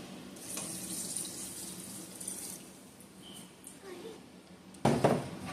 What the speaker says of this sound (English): add the water and the orange juice.